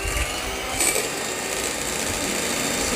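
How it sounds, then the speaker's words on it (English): An electric mixer whisks egg whites for a tiramisu, giving a steady, continuous whirring hum at even loudness throughout, with no voices over it. "let's begin to whisk our egg whites"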